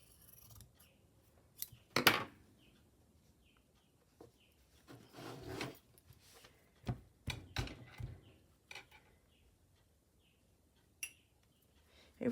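Scissors snip through patchwork fabric in a handful of separate cuts, each a short crisp crunch, with quiet gaps and light handling rustles between them.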